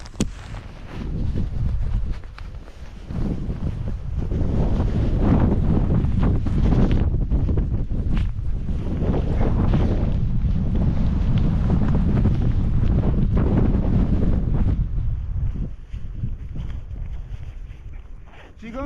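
Strong gusts roar across a snowy mountainside 1,100 m up in November under a heavy snow warning, a loud, continuous buffeting wind that batters the microphone and swells and eases before dropping off near the end.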